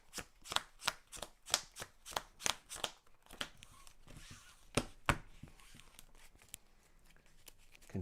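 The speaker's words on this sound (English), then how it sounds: "Shuffle his deck, right? Gotta shuffle my deck too." A deck of game cards is riffled in a quick run of sharp, crisp bursts, then a few looser flicks and soft shuffling, close and fairly quiet with no talk.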